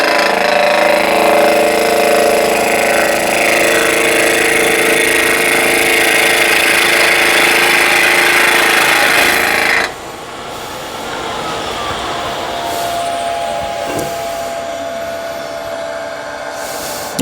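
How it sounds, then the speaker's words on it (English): A wood lathe turning a twig pot under a light cut from a sharp skew chisel, a steady, loud whirring motor hum for about ten seconds that abruptly cuts out, leaving quieter room noise and faint handling sounds. "Nice sharp skew, a nice and light cut."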